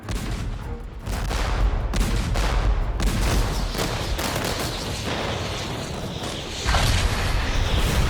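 Heavy, continuous booming cannon fire in the video game Infinity Strash: Dragon Quest The Adventure of Dai, loud and dense, with repeated blasts and rumbling impacts blending into a constant barrage.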